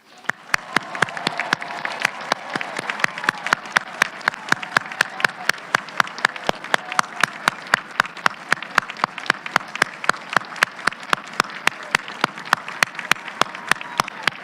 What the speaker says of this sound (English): join me one more time with a big round of applause for our graduates